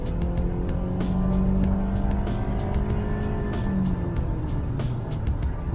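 A 2013 Honda Accord accelerates hard at highway speed, its engine note rising steadily under continuous road and tire noise, with a sharp tick or click recurring now and then.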